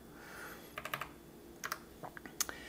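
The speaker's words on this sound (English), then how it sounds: "So I'm going to type in 9 and put months beside it here." Typing on a computer keyboard, a few short clusters of quiet, close key clicks spread over a couple of seconds in an otherwise quiet room.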